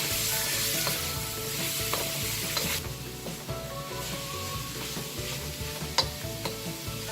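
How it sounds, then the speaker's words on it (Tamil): Cabbage, carrot, red and yellow capsicum and beans sauté in a pan for hot and sour vegetable soup, a continuous close sizzle broken by regular scraping stirs and occasional utensil clinks. "இப்போ இந்த காய்கறி நல்லா வதங்கட்டும், ஓரளவுக்கு வதங்கட்டும்."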